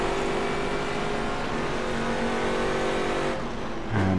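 Race car engines at Silverstone in the rFactor 2 racing game, including a blue and white Corvette and GT4 cars, holding a loud, steady high-revving drone with a brief dip near the end before another engine surges in close.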